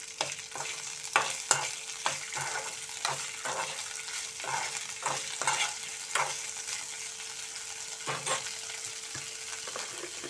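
Green chillies frying in a pan with salt, a continuous sizzle broken by repeated sharp scraping stirs at an irregular rhythm, close and fairly loud, with a faint steady hum beneath.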